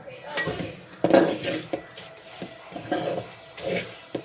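Fried chillies being stirred in a pan, heard as close metallic scraping and clinking of a utensil against the pan in repeated strokes over a faint sizzle, with no talking.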